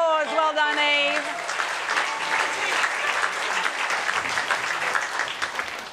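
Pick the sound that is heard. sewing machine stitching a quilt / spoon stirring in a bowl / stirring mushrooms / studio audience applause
studio audience applause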